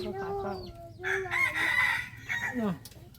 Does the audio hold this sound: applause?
no